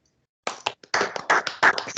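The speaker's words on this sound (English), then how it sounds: "Everybody give a round of applause to Ryan Brewer." A small group claps for a guest on a sports talk podcast, starting after a brief silence in scattered, uneven bursts that stay fairly close and moderate in volume.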